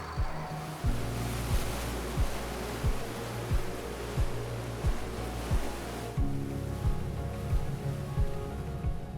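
Pacific Ocean surf at Kiribati rolls in as a continuous wash of breaking waves, with a steady low roar and regularly spaced thumps, close and fairly loud, with no voices.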